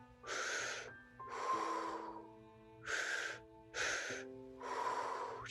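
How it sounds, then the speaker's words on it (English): Five deep, slow breaths, each a loud airy rush through the mouth with a little nasal snort at some onsets, spaced about a second apart in a guided breathwork exercise drawing air into belly and chest, with a soft drone underneath. "breathing in through the belly, in through the chest, exhaling through the mouth"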